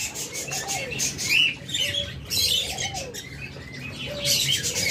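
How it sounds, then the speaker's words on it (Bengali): Orange-head opaline lovebirds chirp in repeated bursts of sharp, high tweets, with softer cooing and wing flutters in between, close and fairly loud. "অরেঞ্জ হেড লাভবার্ড খুঁজেন, অরেঞ্জ হেড অপালাইন।"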